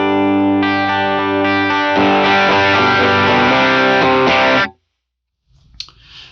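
Electric guitar with an overdrive pedal engaged at low gain, the drive kept low, sustained chords ringing loud and thick with harmonic richness, then stopping abruptly before brief faint handling noise.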